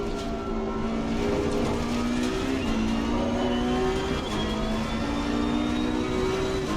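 A race car from the Challengers Pack DLC in Assetto Corsa Competizione drones steadily with a strong harmonic whine, its engine pitch gently rising and dipping through gear changes, moderately loud with no talking.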